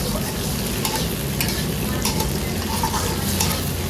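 Chopped yardlong beans stir-fried over high heat in hot oil give a dense, continuous sizzle close by, with intermittent clinks and scrapes of a utensil against the pan.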